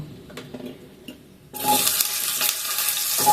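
Chopped vegetables for sambar dal drop into a hot pan with curry leaves and asafoetida, and a sudden loud sizzle bursts up and keeps hissing with faint stirring clatter after a quiet start.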